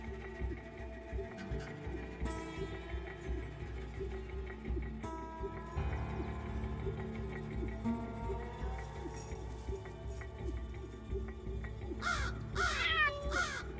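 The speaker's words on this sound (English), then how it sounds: "Crows have different warning calls," Crows give warning calls in the wild, several caws at moderate distance over a steady low hum, with a louder flurry of calls near the end.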